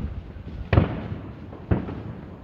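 Fourth of July fireworks bursting in the distance, two sharp booming explosions about a second apart, each trailing off into a rumbling echo over steady outdoor background noise.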